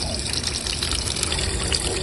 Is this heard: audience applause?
no